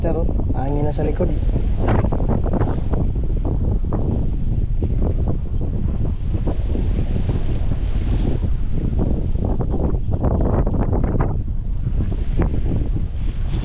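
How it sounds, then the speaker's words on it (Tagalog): Wind blowing across a fishing boat at sea, a steady rushing buffet against the microphone with waves beneath, while people talk over it throughout. "Hangin na sa likod"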